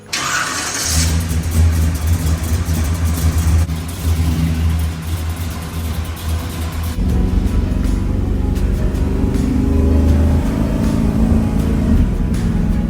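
A 1967 Camaro Rally Sport with its engine started and running, giving a loud, close, deep idle rumble that shifts to a heavier, rougher throb as it pulls away and drives off.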